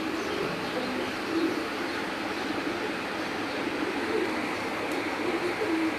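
Breeder pigeons coo steadily on a rooftop, their low murmuring calls blending into a continuous, moderately loud flock sound with no talk over it.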